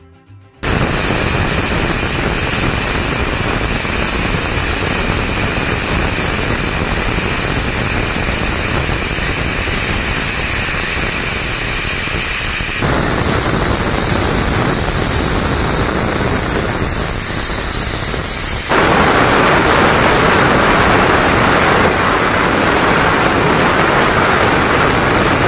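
Pressure cooker on the stove cooking mutton curry, giving off a long, loud, steady steam hiss that shifts in pitch twice as the whistle builds, heard alone without talk.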